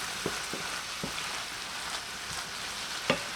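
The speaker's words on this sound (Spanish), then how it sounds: "Lo mezclamos todo y sofreiremos por 2 minutos aproximadamente" Garlic, green and red pepper and onion sautéing in a pan, with a soft steady sizzle broken by a few faint taps and stirring clicks.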